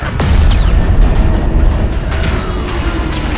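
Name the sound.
explosion on ship's propulsion deck in video game Destiny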